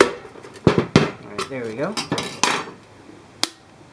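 A hammer tapping a metal punch into a can: several sharp, ringing metallic clinks spaced irregularly, close and bright, with someone speaking briefly between the strikes.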